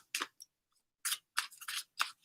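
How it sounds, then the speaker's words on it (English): Tarot de Marseille cards being shuffled quickly by hand, several short crisp riffling bursts separated by brief pauses, close and quiet with no talking. "Shuffling like a mad woman."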